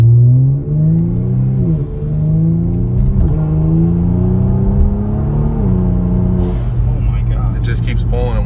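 A Kia Stinger with a JB4 tune pulls hard through its gears, its engine note rising in long sweeps and dropping at each shift, loud and close from inside the cabin, with voices talking over it.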